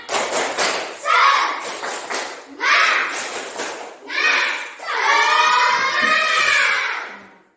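A class of children performs a rhythmic spirit clap, chanting together in bursts with sharp claps and thumps in a lively, repeating pattern, loud and close.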